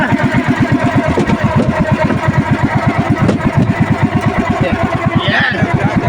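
A fishing boat's engine turns over and settles into a steady, loud chugging putter at sea on a cold, rainy day, running continuously with an even rhythm.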